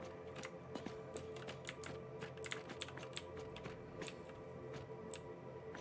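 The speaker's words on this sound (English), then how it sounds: "You were typing it as I said it." Someone types on a computer keyboard in quick, irregular bursts of light clicking keystrokes, close but fairly quiet, with no voices.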